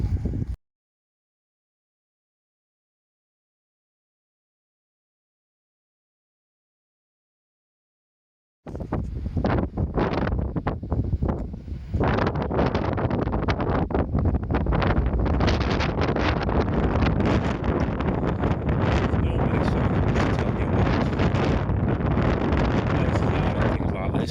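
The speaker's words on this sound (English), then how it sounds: "the wind really picked up here" Strong wind buffeting a microphone outdoors near old coastal gun placements, a loud continuous roar after a stretch of silence.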